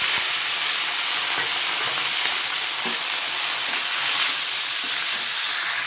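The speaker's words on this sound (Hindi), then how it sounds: "एवं से पियाज संडा और आलू को पकई भाजी।" Sliced onion and potato fry in hot oil in a wok, giving a loud, continuous sizzle and crackle with faint stirring scrapes now and then and no voices.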